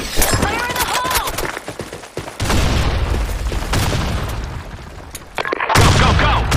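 Video game combat on a desert map: a heavy grenade blast and rolling booms mixed with rapid bursts of gunfire, loud and continuous, with shouted voices over the firing.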